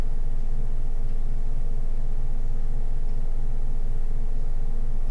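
A home washing machine drum turning clothes gives off a steady, even low hum with a constant rumble, continuous and unchanging throughout, with no voices.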